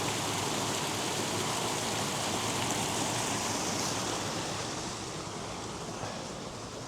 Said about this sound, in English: Sound of the water rushing over that.